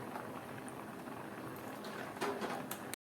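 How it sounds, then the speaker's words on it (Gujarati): Milk and rice simmer together in a pot for carrot kheer, a soft continuous bubbling heard close and alone before the sound cuts off abruptly near the end. "ચોખા સારી રીતે કૂક થઈ ગયા છે અને દૂધ પણ સરસ રીતે ઉકળી ગયું છે"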